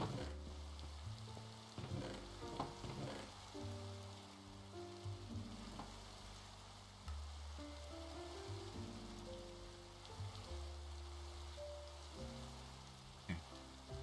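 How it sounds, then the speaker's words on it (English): Steady rain hisses throughout in Minecraft, a dense crackling patter like drops on a surface, with blocky game tones and short effects layered over it. "Goodness, the rain."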